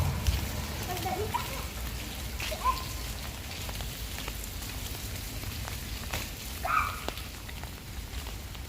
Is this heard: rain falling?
yes